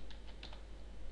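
Keystrokes on a computer keyboard while entering PHP code, a quick burst of several light clicks close by over a steady hiss.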